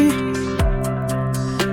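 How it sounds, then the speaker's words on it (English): A music track with vocals runs through Softube tube delay and driven harmonics distortion, giving a dense, saturated mix with sustained tones and repeating percussive hits and a deep low drop partway through. "So now we're getting some of that tube delay into the distortion"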